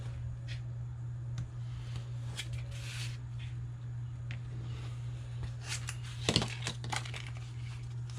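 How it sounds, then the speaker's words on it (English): Someone trims excess paper from a handmade boxed Christmas tag with an X-Acto finger knife, giving quiet, scattered scraping and crinkling cuts over a steady low hum. "I'll come back with my finger X-Acto knife, and I'm simply going to remove my excess paper."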